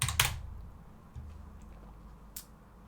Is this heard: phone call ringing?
no